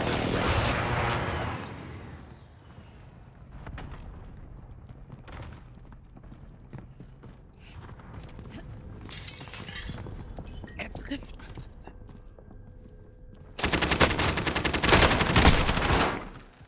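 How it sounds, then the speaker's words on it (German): Gunfire from a Warzone video game battle breaks out in a loud burst at the start, then scattered shots follow through a quieter middle stretch, and a heavy, close barrage hits near the end while players talk. "Ich werde hier drüben beschossen."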